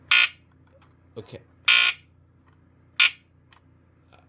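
A hardwired smoke alarm being tested sounds three short, loud, harsh bursts spaced apart, with a person briefly speaking between them.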